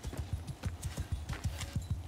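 Horse hooves clip-clop steadily in Mount & Blade II: Bannerlord, a fast, even run of near hoofbeats over the whole stretch with no talk.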